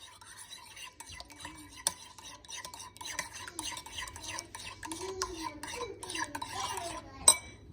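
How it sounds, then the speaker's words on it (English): A utensil clinks and scrapes rapidly against a bowl while egg yolks are broken and stirred for a mozzarella omelet, a busy close-up rattle that continues steadily throughout. "So I'm going to go ahead and break the egg yolks."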